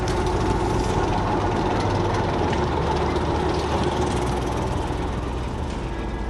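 A no-frills steam locomotive engine on the Rom River line runs steadily, giving a continuous, fairly loud rumbling chuff with a constant low drone throughout and no voices.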